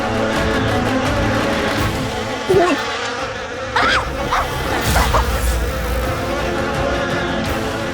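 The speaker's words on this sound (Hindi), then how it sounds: "मधुमक्खी," A bee buzzes loudly and close by in a TV drama scene, its droning hum rising and wavering over a dense background for several seconds.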